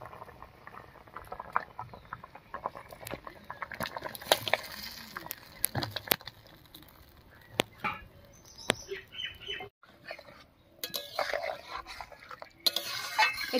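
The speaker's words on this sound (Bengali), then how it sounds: "একটু নাড়িয়ে নিলাম" Ridge gourd and potato pieces are stirred in a pan for a fish curry, giving irregular scraping, clattering and soft sizzling bursts at close range, with brief quiet gaps and sharp utensil knocks.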